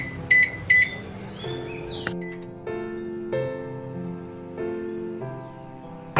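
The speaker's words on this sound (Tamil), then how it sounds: "இப்போ நம்ம microwave power level high power லெவலில் வச்சுக்கலாம்." Microwave oven set to high power, starting with a few short electronic beeps, then a steady resonant hum with pulsing, shifting tones as it runs.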